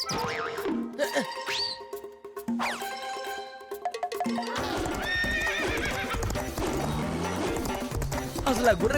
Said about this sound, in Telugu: అసలు ఆ గుర్రం ఏం తింటోంది?